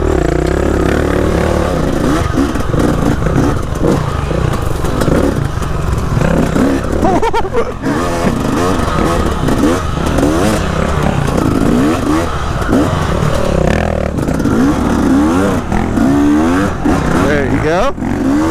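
Dirt bike riding a trail in a father-versus-son challenge, the engine loud and close throughout, rising and falling with revs and gear changes along with clatter and scrapes from the terrain.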